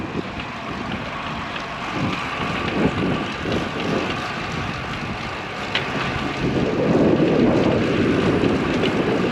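Strong wind blowing at 22 mph with gusts to 33 mph roars across the microphone during a ride, a steady rushing buffet that swells louder toward the end.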